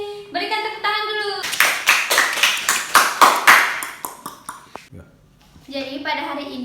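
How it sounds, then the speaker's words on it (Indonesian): A group of children claps together in an elementary social studies classroom, a steady burst of rhythmic hand claps lasting a few seconds, with a teacher's voice before and after. "Berikan tepuk tangan dulu"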